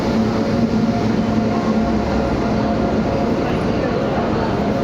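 Train rolling along the rails, recorded from inside a carriage on a journey home, with a loud, steady broadband rumble and rushing noise throughout and faint voices mixed into the roar.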